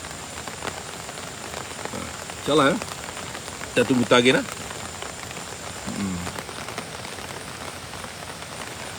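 Heavy rain falls steadily throughout, a dense continuous hiss close by, with someone speaking over it in short bursts.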